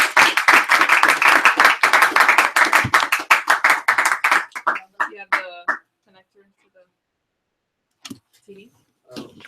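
Audience applause for Karina Marquez Sterling at a general session: a loud burst of hand clapping fills the first four seconds and then thins into scattered claps, followed by quiet stretches and brief nearby talk.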